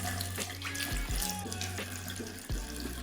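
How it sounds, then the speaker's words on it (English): Tap water runs steadily into a sink while a facial hair shaver is rinsed under it, a constant close rush with a low hum and a few clunks and knocks against the basin. "I'm just going to go over the sink and wash this off."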